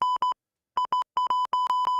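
Sharp electronic beeps sound during a live stream, a steady pure tone switched on and off in quick, uneven bursts, short and long like Morse code, loud and clean with nothing else heard.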